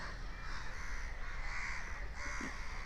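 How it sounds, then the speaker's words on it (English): A crow near Baga beach in north Goa caws repeatedly in a steady run of harsh, loud calls over a constant background hum, with no talk. "Or maybe that was a crow."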